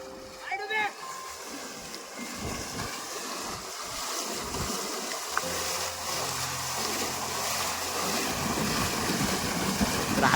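Water flows down from Dhamapur lake in Malvan in a steady, broad rushing wash that stays even throughout, with a brief voice near the start.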